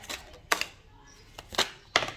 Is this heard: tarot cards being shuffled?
yes